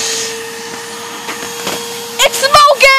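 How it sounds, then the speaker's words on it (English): A vacuum cleaner runs outdoors sucking up snow, giving a steady whining motor drone. Loud bumps and scraping clatter break in near the end. "We're gonna vacuum on some snow."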